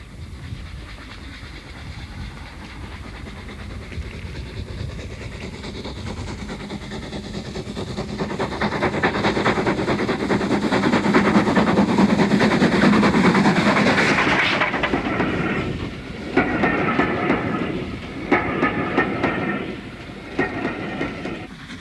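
A steam train runs along a railway with a steady rumbling roll and clicking of wheels that swells louder as it nears, then gives way to softer rattling and hissing.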